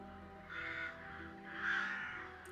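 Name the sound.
crows cawing, played sound effect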